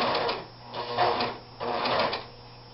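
A serger overlock machine stitching an inside corner of fabric, two bursts of fast humming whir separated by a short pause, close and alone without talk.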